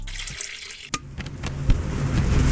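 Water runs from a tap into an OOKA pot, a steady splashing gush that grows fuller and louder as it fills, with a sharp clunk near the start and no voices.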